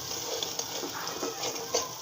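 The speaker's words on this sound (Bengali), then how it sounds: "তরকারিটা আমার ভালো করে কষানো হয়ে গেছে।" Potato curry sautéed and stirred in a pan, with a soft steady sizzle and light scraping stir strokes and clinks from up close, no talk.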